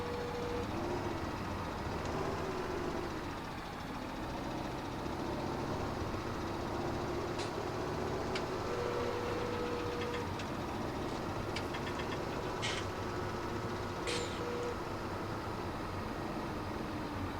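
Tractor engine in Farming Simulator 17, a steady low idling drone with a faint knock and occasional higher mechanical ticks, running continuously without talk.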